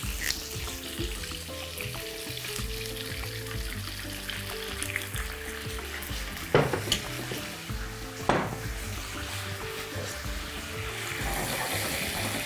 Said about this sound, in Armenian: լցնում ենք կարմիր անապակ գինին